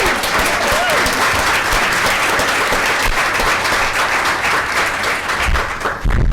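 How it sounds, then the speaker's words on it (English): Loud, dense applause from an audience for Jody at a panel event on supportive housing, steady clapping that goes on for several seconds with a faint murmur of voices underneath. "Please, a round of applause for Jody."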